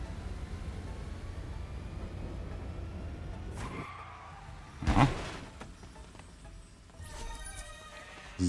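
A van revs and speeds up in Goat Simulator 3, with a steady engine drone that cuts off into a sharp tire skid, followed by loose clattering and a few knocks.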